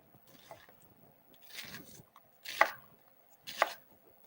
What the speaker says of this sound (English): Just chopping some onions.